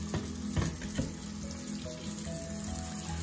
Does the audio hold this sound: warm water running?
yes